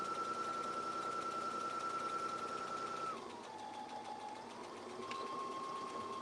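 A sewing machine stitches a seam with a continuous close whirring hum that is fairly quiet and holds steady, then drops in pitch for a moment as the machine slows and picks back up.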